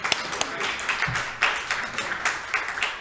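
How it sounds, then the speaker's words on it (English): An audience at a creative writing showcase applauds with scattered, fairly light claps at close range. "Give yourselves a round of applause."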